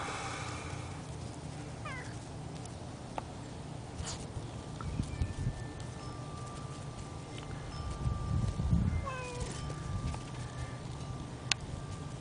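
A cat meows a few times, with short, fairly faint calls spread through the stretch and a louder cry near the end over steady background rumble.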